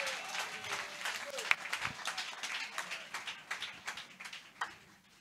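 A church congregation claps and cheers for the Lord in response to the pastor, a moderate, fairly distant patter of many hands with some crowd noise underneath, continuing steadily.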